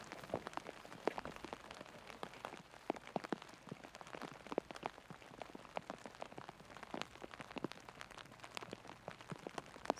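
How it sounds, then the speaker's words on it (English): Heavy rain with big drops falling outdoors during a disc golf tournament, a dense, steady patter of sharp individual splats close by, with no talk. "With some big drops type of rain, really hard to keep everything dry."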